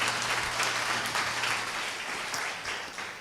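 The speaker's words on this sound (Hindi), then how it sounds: "एक बार जोर से ताली बजा दीजिए अगर सब लोग ठीक हैं।" An audience at a Hindi-language church sermon claps loudly together in sustained applause that carries on steadily for about three seconds, with no voice over it.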